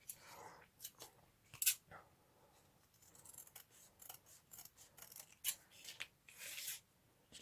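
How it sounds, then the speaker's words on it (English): Sewing scissors snip through fur fabric in quick, crisp cuts close by, scattered in irregular bursts with short rustling pauses between. "So you could cut this down a bit carefully."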